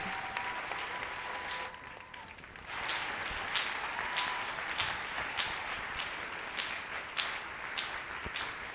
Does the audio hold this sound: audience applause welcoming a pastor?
yes